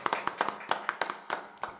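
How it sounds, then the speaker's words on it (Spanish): A few people clap at a concert for a couple celebrating 20 years of marriage, sparse uneven hand claps in a short irregular burst. "Un aplauso para esto, 20 años de casado"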